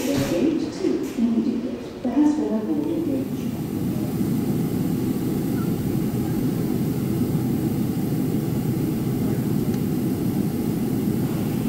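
Passenger airliner taxiing toward the runway on a Yuzhno-Sakhalinsk to Moscow flight, a steady loud low engine roar heard from inside the cabin, with voices talking briefly at the start before the drone continues alone.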